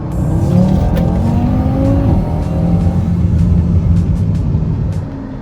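An Audi RS3 engine revs steadily and loudly throughout, its pitch rising and falling with a brief dip before climbing again, alone with no talk.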